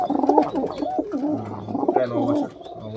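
A nine-year-old male pigeon coos loudly and close by, rolling through several throaty, wavering phrases, with a low steady hum underneath.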